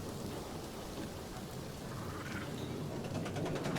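Rain and thunder in the zoo-building video game Planet Zoo: steady dense rainfall with a low rumbling thunder bed throughout, loud and even, with no talk.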